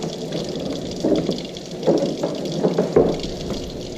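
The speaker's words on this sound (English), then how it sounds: "let it get to nice hot tap water, and just kind of swirl it around in the jar." Hot tap water runs into a glass jar at a kitchen sink and is swirled around inside, giving a steady splashing rush with a few sloshing surges as the jar is turned.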